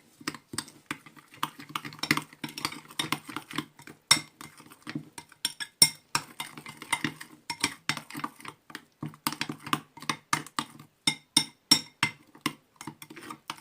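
A utensil stirs chicken pieces with vinegar in a dish, making rapid, irregular clicks and clinks in close bursts without any talking.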